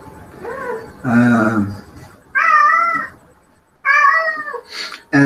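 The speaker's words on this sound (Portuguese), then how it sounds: "Gato doido, velho." A cat meows loudly and close by, repeating in several long, drawn-out wailing calls separated by short pauses, with the last call cut off at the end.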